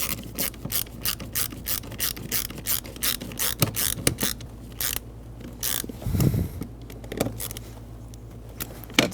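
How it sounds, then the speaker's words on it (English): Screwdriver driving a Phillips head screw into an interior panel of a Dodge Grand Caravan, close quick ratcheting clicks in repeated runs with brief pauses and a soft knock midway, no voices. "Let's get this Phillips head screw started in here."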